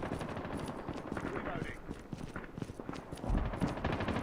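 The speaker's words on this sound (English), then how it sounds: "I'm gonna outflank him and use my machine gun." Rapid, continuous minigun fire in the shooter game COD Mobile, a dense rattling stream of shots running through the whole stretch, loud and close with a heavier burst near the end.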